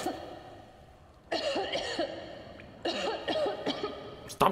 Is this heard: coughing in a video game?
yes